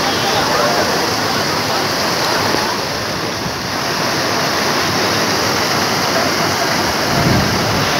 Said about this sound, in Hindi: ये देखिए, ये पानी यहाँ से निकल रहा है, वो ऊपर से आ रहा है